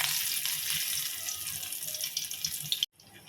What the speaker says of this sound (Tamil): இப்போ நம்ம ஊற வச்ச சிக்கனை எண்ணெயில் போட்டு எடுத்துக்கலாம்.